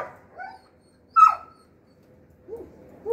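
Faint, brief whimpers and whines from a muzzled female Belgian Malinois on a farm, a few short high cries with quiet gaps between them.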